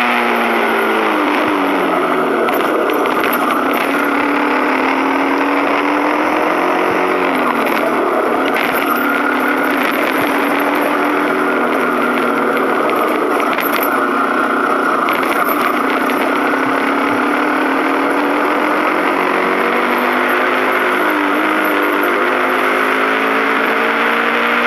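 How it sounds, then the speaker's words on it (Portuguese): A delivery motorcycle's engine hums steadily while riding, its pitch rising and falling with gear changes and throttle, and it stays continuous and fairly loud with wind and road noise mixed in. "Vou até aumentar um pouco aqui para vocês ouvir o barulho o ronco do motor."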